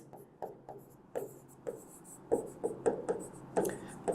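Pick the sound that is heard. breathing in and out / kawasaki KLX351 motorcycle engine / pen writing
pen writing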